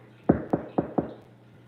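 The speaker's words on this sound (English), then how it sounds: "Do you want another knock at your door?" Four sharp knocks on a door in a quick, even sequence, close and fairly loud against a quiet room with a low background hum.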